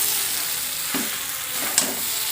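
Young jackfruit and potato fry with spices in a pan, giving a steady close sizzle, with a couple of brief stirring scrapes. No voices.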